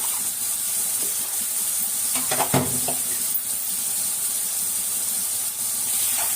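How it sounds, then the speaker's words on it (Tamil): Garlic cloves sautéing in a hot pan at home, a steady sizzling hiss filling the clip with a brief burst of scraping and stirring near the middle, close and fairly loud, no talk. "இந்த பச்சை வாசனை போகிற வரைக்கும் வதக்கிக்கலாம்"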